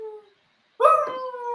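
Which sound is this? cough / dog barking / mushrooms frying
dog barking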